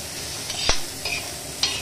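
Ridge gourd and green chillies roasting in oil in a pan, a soft steady sizzle with a few sharp stirring scrapes and clinks standing out from the crackle, no voices.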